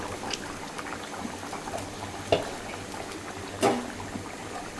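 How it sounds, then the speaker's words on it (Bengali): A fish curry of rohu and tilapia with flat beans, potatoes and tomatoes simmers in a pot, giving a steady close bubbling with a few louder pops and gurgles. "পানিটা দেওয়ার পরে বলক চলে আসছে"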